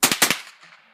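Rifle shots fired outdoors, two quick pairs of sharp loud cracks in rapid succession, each trailing off in a fading echo.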